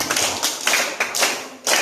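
Hands clap in a small group at an outdoor Islamic school activity, a few loose, uneven bursts of claps close by with no talking.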